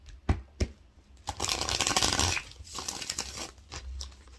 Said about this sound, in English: One more shuffle for Pisces career.